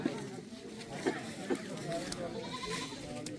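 Beetal goats bleat at a rural goat market during a sale, with a few short calls rising over steady nearby male chatter and background bustle.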